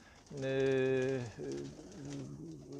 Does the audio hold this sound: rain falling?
no